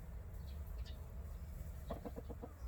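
A brooding hen sitting on eggs gives a short run of soft, quick clucks, faint against a steady low background hum.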